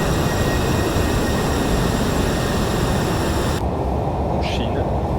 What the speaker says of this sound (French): on va atterrir avec ce fabuleux MD-11